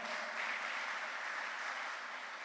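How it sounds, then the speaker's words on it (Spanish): A church congregation applauding a visiting Baptist pastor, a soft, even wash of clapping heard at a distance throughout. "Vamos a darle un fuerte aplauso al pastor."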